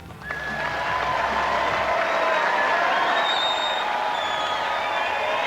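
A large crowd applauding at a Leagues Club show, steady dense clapping that swells in quickly and holds at a loud, even level throughout.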